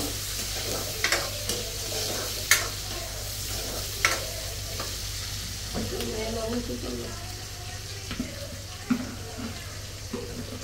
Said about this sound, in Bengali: দিয়ে দিলাম, এটা একটু ভালোভাবে ভাজা নিব